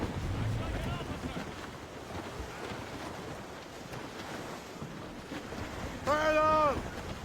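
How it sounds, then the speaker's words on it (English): Wind blowing over a sailing ship at sea in Assassin's Creed Rogue: a steady, rushing wash of wind and water throughout, with a brief voice-like wavering tone near the end. "That wind's trouble. Trim the yards off the wind!"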